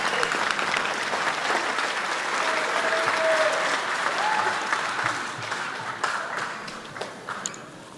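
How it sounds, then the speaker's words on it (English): An audience at a Native American graduate honoring ceremony applauds and cheers, a full, steady burst of clapping with whoops that gradually thins and fades toward the end. "So let's do a big cheer for Anna Brokenleg."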